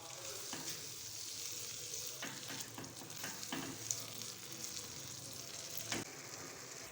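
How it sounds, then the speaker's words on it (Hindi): Moong dal sizzles steadily in a pan of hot spice masala while a spoon stirs it, a continuous loud fry hiss broken by scattered scraping clicks. "दाल को मसाले में ऐड करने के बाद थोड़ी सी बुनाई करेंगे।"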